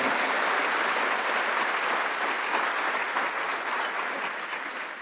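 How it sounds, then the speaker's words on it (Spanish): A church congregation gives sustained applause during a Spanish-language service, a dense, even wash of clapping that holds steady and then begins to ease toward the end. "Vamos a darle un fuerte aplauso al Señor."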